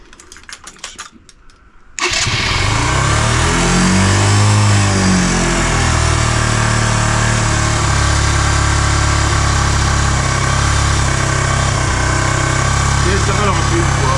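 A Suzuki Van Van 125 motorcycle, not run for twenty years, starts after a few cranking sputters and settles into a loud, steady, close idle with slight rhythmic unevenness, while people speak over it.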